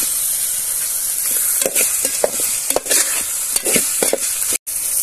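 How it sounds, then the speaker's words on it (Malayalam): Chopped coriander leaves being mixed into Gobi Manchurian in a hot pan, a loud continuous sizzle broken by a run of quick scraping and clacking spatula strokes. "ചെറുതായിട്ട് അരിഞ്ഞു വെച്ച മല്ലിച്ചപ്പും അതായത് കൊറിയൻഡർ ലീവ്സ് ഇട്ടിട്ട് ജസ്റ്റ് മിക്സ് ചെയ്തിട്ട് ഓഫാക്കുക"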